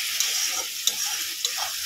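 Tomato seasoned with salt and turmeric frying in a pan while being stirred, a steady close sizzle with a few sharp clicks of the spoon against the pan.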